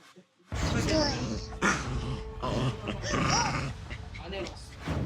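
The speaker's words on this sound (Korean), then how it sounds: "안고 있는데 내 자녀에게 으르렁거리잖아요." A dog growls while being held near a child, a low rumbling growl mixed with whimpering, heard close and loud under almost continuous talk.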